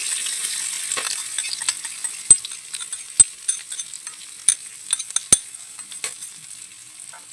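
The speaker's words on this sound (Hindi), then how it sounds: "अब ये तेल गरम हो चुका है, इसमें हम डालेंगे तज, लवंग, काली मिर्च, ज़ीरा, करी पत्ता" Cinnamon, cloves, black pepper, cumin and curry leaves fry in hot oil, giving a steady bright sizzle dotted with sharp crackles and pops, close and fairly loud.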